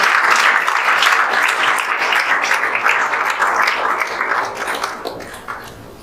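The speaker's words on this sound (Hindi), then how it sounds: "जोरदार ताली बजा दीजिए आप" An audience claps loudly for a JEE Main student being honoured at a coaching class event, the dense applause starting strong and slowly fading toward the end.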